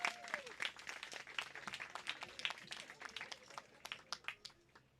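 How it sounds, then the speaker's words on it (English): Outdoor applause from an audience at a park and creek restoration ribbon cutting, a crowd clapping steadily for five seconds, somewhat distant and gradually thinning toward the end, with faint voices underneath. "Everyone give Mayor Bryan a round of applause one more time."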